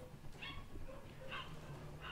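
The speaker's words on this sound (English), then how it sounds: "All the dogs are freaking out now." Several dogs barking in an agitated burst, a few short yips and barks spaced apart, faint and distant over a low background hum.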